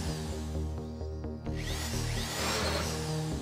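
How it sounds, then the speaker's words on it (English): A drill bores into a safe during a casino heist in a video game, a steady whirring grind that shifts pitch partway through and grows harsher and louder toward the end. "Keep a steady hand and drill gradually."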